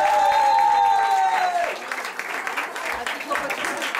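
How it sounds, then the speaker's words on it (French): An audience at a magic show applauds the dancer assistant, loud at first over a sustained tonal sound that fades out, then thinning into lighter, scattered clapping. "On peut applaudir Laura, la danseuse assistante quand même."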